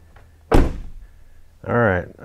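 A Ram 1500 truck door handle being fitted on, one solid thunk of the part seating against the door, followed by a short spoken remark.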